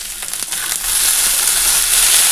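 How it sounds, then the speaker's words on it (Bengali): Sliced potatoes frying in oil in a home kitchen pan, a steady loud sizzle with a few stirring taps at the start, close up, with no talking. "তো এই যে আলু ভাজা বসিয়ে দিয়েছি"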